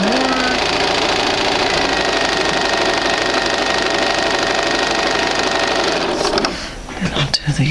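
A sewing machine runs steadily, stitching quilt pieces together for card trick blocks, a dense continuous whir for about six seconds before stopping abruptly, followed by a few faint handling sounds.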